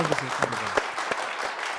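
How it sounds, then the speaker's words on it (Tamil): Dense studio audience applause on a Tamil television game show, a continuous crackle of many hands with a voice talking over the first part. "ரொம்ப நல்ல ஜோர கைத்தட்டல் கொடுங்க நம்ம ஏபிசிக்கு"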